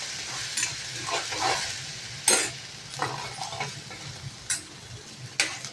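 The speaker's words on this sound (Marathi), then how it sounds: "एक टोमॅटोचं पेस्ट केले मी, ती पण आता आपण परतूया." Tomato paste is sautéed in a kadai over a low flame, with a soft sizzle under repeated scraping and stirring strokes of a spoon against the pan.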